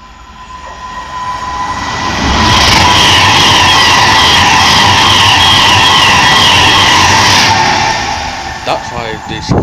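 A train running through near Crewe on a line out of London Euston swells in loudly, holds a steady roar with squealing tones for several seconds, then fades as it clears the spot.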